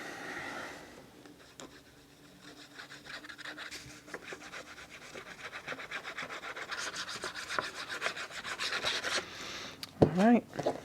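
Paper rubbed firmly by hand to press a glued piece down onto a page of a cracker box journal, a steady dry rasping scrub that builds in intensity across the clip, ending with a sharp handling knock and brief rustle.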